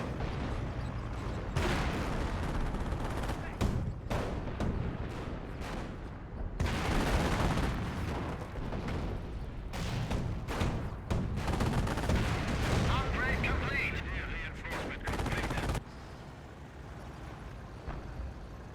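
Gunfire and explosions in the Company of Heroes strategy game, dense bursts of rifle and machine-gun fire with heavy blasts, loud and continuous, easing near the end, with occasional game voice lines mixed in.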